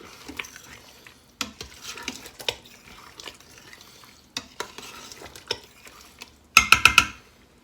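A spoon stirs cooked pasta through beef bolognese from a jar inside an Instant Pot, giving intermittent scraping and clanking bursts against the metal insert with soft sizzling between. A sharp flurry of clinks comes near the end.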